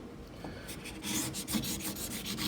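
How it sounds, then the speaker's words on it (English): Chisel held flat paring wood for a corner halving joint, a soft repeated rasping scrape in short strokes, growing louder after the first second, close and without talk. "Now just keep the chisel flat, you're not going to dig in, and you can see how smooth it's making that."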